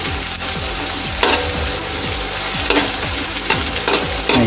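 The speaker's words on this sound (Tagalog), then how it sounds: "Lagay na natin yung ating sibuyas na pula. Mix lang natin siya." Red onion stirred and fried in a pan gives a steady loud sizzle, broken by repeated scraping strokes of the spoon in a regular rhythm, close and without talk.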